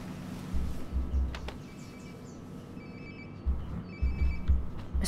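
A phone rings nearby in Life is Strange: Before the Storm, two short bursts of a thin electronic ring over a low, rumbling room tone with occasional soft thuds.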